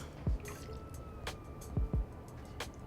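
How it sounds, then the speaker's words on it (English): Maple syrup poured into a grain-free vegan bread dough mixture gives a few soft, wet drips and plops, quiet and close, with three distinct droplet sounds spaced over a few seconds. "We're gonna add 2 tablespoons of maple syrup."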